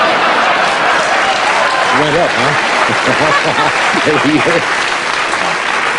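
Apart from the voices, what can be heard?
studio audience applause on the Tonight Show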